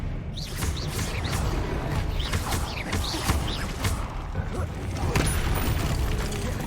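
Expelliarmus spell cast during a Hogwarts Legacy duel, heard as a busy run of clattering magical bursts and whooshes amid steady combat noise, with no pause.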